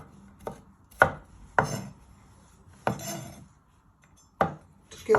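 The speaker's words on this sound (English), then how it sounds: "And you just want to finely slice it" A knife slices vegetables on a cutting board in a home kitchen, giving six crisp, sharp knocks spaced unevenly about half a second to a second apart, close and clear against a quiet background.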